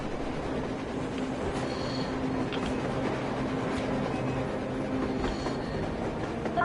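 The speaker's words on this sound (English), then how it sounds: "A train! A damn train on the surface!" A train rolls across the surface in the Metro Exodus game, a steady rumble of wagons and wheels with faint clanks and squeals, heard at a distance through a blizzard.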